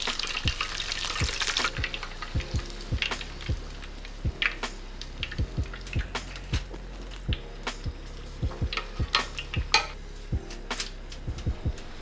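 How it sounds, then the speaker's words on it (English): Southwest chicken egg rolls fry in hot oil, a steady close sizzle with repeated soft knocks and clatters as they are turned and rolled around in the pan. "Just wanna roll them around, make sure they're cooking evenly, got some even color."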